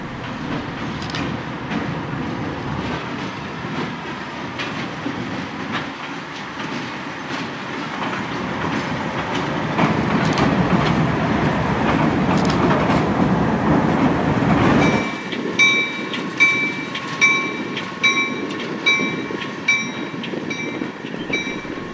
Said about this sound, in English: the Livonia, Avon, and Lakeville Railroad arrives in town with a C420 high hood and a